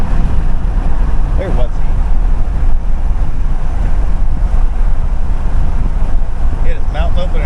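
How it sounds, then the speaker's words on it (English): Constant rushing, buffeting wind roars through an open car window on a road trip near Okeechobee, Florida, a loud low rumble that runs throughout while someone speaks briefly over it. "I'll roll down my window and we'll just deal with the wind noise"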